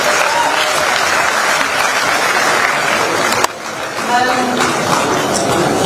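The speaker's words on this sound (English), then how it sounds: "Please a round of applause for them." Applause from the audience at a university induction ceremony for newly qualified medical doctors: a loud, sustained wash of clapping that briefly dips midway, then carries on with faint voices mixed in.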